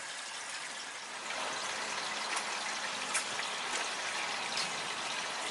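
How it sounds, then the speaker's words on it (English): Water splashes down a small garden pond waterfall fed by a 300-gallon-per-hour Marineland fish pump, a steady, soft gushing trickle that thickens slightly after the first second and then runs evenly with no voices. "we're going to talk about the need for a waterfall in your pond"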